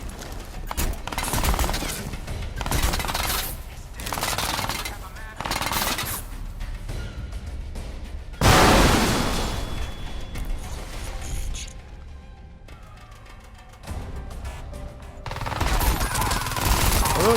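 Rapid automatic fire from the Feline submachine gun in Crysis 2, dense rattling bursts separated by short pauses, loud and close, with mechanical clatter and a crashing impact midway.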